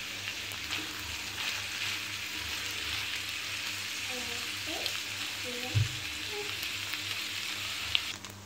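Chicken fries in a pan with a quiet, steady sizzle and crackle over a low hum, broken by a few faint, brief voice-like blips.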